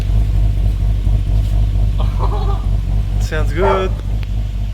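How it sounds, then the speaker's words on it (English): A Lexus IS300 engine idles steadily and loudly right after a timing belt replacement, a constant low drone running throughout, with a voice speaking briefly over it. "Car's up and running"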